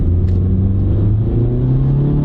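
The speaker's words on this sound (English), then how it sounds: "A lot of these CVTs, they just over rev when they're taking off." A Honda car with a CVT transmission over-revs while accelerating from a stop, its engine holding a loud, steady drone that climbs gradually in pitch, heard up close with no talking.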